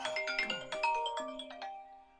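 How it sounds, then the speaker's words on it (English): A mobile phone ringtone plays a bright, chiming melodic run of quick notes, fairly loud and close, then fades and rings out with no talking over it. "You turn your phone off and it starts to ring."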